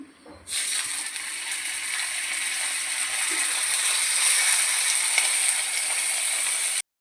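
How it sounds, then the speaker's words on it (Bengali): Fish sizzling steadily as it fries in hot mustard oil in a wok over a gas flame, a bright continuous hiss that starts suddenly and holds close and loud until it cuts off. "একে একে করে এবার মাছগুলো ভেজে নিই।"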